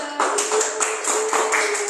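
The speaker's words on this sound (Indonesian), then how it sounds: "Tepuk tangan buat kelompok 2." A classroom group applauds another group of students during a teaching practice session, scattered light hand claps, fairly close, with a steady hum beneath.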